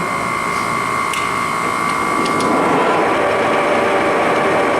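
A heavy-duty Ryazan (Stanko) 16K40 engine lathe, 36 by 120 inches, spins at high speed with a loud, steady mechanical whine and hum that rises slightly in pitch partway through, with no talking.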